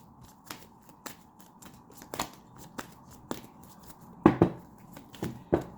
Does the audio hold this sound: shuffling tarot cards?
yes